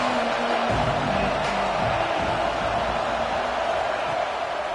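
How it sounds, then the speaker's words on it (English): Stadium crowd at an Auburn versus Vanderbilt college football game roaring with a loud, sustained, ear-splitting wash of cheering that stays steady throughout, with no clear talk on top. "This crowd bringing an ear-splitting welcome to their visitors."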